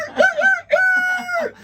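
A man imitates a rooster crowing with his voice, two loud, close cock-a-doodle-doo calls, the second long and drawn out.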